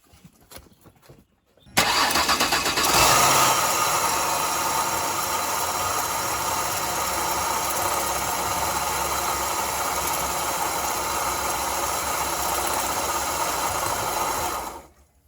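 A Ford Escape engine cranks and catches after a short quiet start, then settles into a steady, loud idle with a continuous whine and rattle from a smoking, failing clutch bearing.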